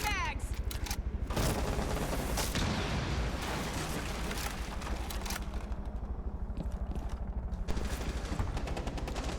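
Rapid gunfire rattles almost without pause through a PS4 competitive esports match, dense bursts of shots layered over continuous game noise, with a commentator talking over the action.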